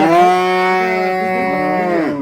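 A Friesian cow with a newborn calf lets out one long, loud moo close by, held steady for about two seconds before trailing off.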